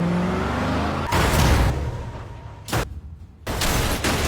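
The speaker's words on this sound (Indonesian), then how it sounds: "ada mobil yang dimodifikasi di depannya melaju kencang" Modified car speeding across a bridge, a loud roaring rush of engine and road noise broken by several abrupt bursts that suggest impacts or a crash, with short quieter gaps between them.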